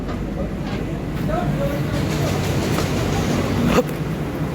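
Passenger train pulling into Cilacap station in Indonesia, a steady rumble of the carriage with a brief sharp clank near the end, heard from inside the train.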